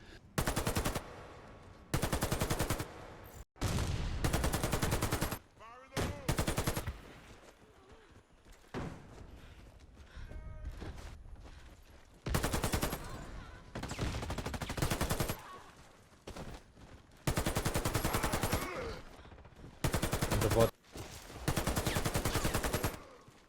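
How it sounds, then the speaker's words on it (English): An AK-103 rifle fires in full-auto bursts in the shooter video game Warface. The bursts are loud and rapid, lasting several seconds each, with brief gaps and quieter game sounds between them. "let's watch a few clips of him using AK-103, which has a very high recoil with a heavily randomized pattern"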